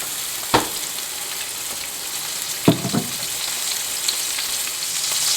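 Beef brisket in a hot pan gives a steady, close sizzle that runs throughout, broken by a sharp clank early on and a few quick utensil knocks near the middle.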